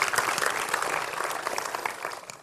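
Audience applause at a tech talk on a Java e-learning platform: a dense, steady wash of many hands clapping that holds for the whole stretch, easing slightly toward the end.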